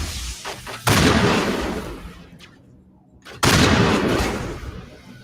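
Two loud, sharp gunshots from a sniper rifle in a video game, the first just under a second in and the second a few seconds later, each ringing out with a long decaying tail and no speech.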